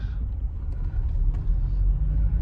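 Cars passing one another on a narrow mountain road near Dhankar in the high Himalaya, heard as a steady low engine and tyre rumble from nearby traffic with no clear voices.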